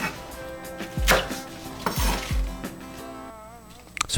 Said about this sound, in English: Cut into a bite size and put them in a mixing bowl. Cut another batch.